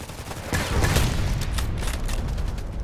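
Sniper-match gunfire in a video game: a dense stream of rapid shots and booming reports starts about half a second in and keeps going steadily over a noisy rumble to the end.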